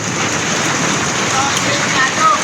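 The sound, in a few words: rain falling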